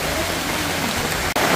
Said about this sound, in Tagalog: Ulan lang yan.